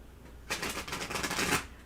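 Tarot cards are shuffled close up in a brief, soft burst of rapid papery riffling that lasts about a second against quiet room tone, with no speech.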